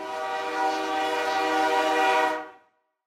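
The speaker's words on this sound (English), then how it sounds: "you hear a train whistle" A train whistle gives one sustained, bright blast of about two and a half seconds, close and loud, then cuts off abruptly into silence.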